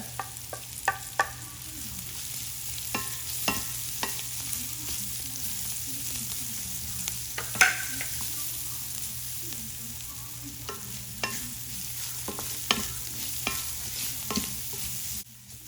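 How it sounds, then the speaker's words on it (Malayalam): Crushed ginger and garlic with green chillies sizzle and fry in a pan for a yogurt curry, with repeated scraping stirs and spoon taps over a steady close-up sizzle. "എല്ലാം ഒന്ന് കൂട്ടി വരട്ടെ"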